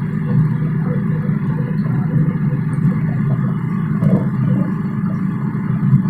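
A 1969 Citroën Ami 6 Club saloon strains uphill in fourth gear, its small engine giving a steady, loud, labouring drone from inside the car with no talk.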